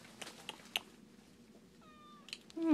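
A pet cat named Sheba meows in a pet store while being petted, giving several short close mews and a clear tonal meow near the end, with quiet background and no speech over it.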